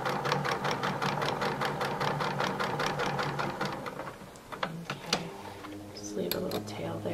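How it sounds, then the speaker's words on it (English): A domestic sewing machine stitches a quilt block seam in a steady fast rhythm of needle strokes for about four seconds, then slows and stops with a few clicks and handling noises. "And I'll just sew this seam, and you don't have to back stitch at the front or at the end"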